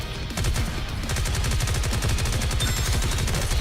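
Rapid automatic gunfire from the video game NIKKE, a loud, dense rattle of shots in a fast steady rhythm running the whole time.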